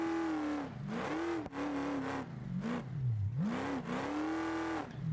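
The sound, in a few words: off-road race truck engine revving in video game BeamNG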